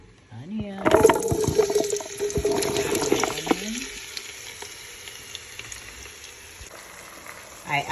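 Onion and ground beef fry in a pot with a crackling sizzle that is busiest early on, joined by stirring clatter and a short voice near the start, then settles into a quieter, steady hiss.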